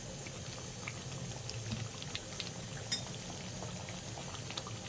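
Chicken korma meat simmers in milk and onions in a pot, giving a soft, steady bubbling and faint popping at close range, quiet and continuous with no talk.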